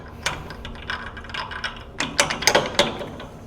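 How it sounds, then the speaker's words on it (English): A cutter is loaded into the keyed spindle of a Rottler F10XS boring and surfacing machine, set up to bore a Chevrolet V8 engine block, giving a scatter of sharp, quiet metallic clicks and clunks close up with no talking. "Now, our spindle is keyed, and I'm going to load my cutter in here."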